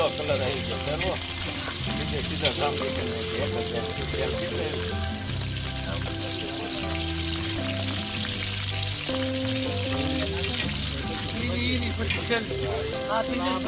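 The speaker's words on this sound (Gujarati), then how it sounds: "રીંગણા અંદર નાખીએ એટલે તેલનો જે અવાજ આવે એ ખૂબ જ સરસ હોય છે" Stuffed eggplants drop into hot oil in a pot for a Gujarati bharela ringan dish, a loud dense frying hiss that continues throughout alongside clattering and what sounds like background music or voices.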